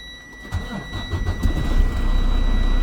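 A truck tractor's diesel engine runs during a Class 1 pre-trip air pressure test, starting low then rising to a steady, loud idle rumble that builds and holds, close by.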